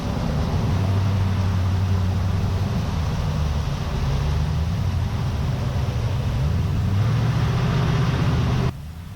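A heavy 2025 Ford F-350 Lariat Tremor pickup drives along, its engine a steady low rumble with road noise throughout, rising slightly in pitch now and then before dropping off abruptly at the end.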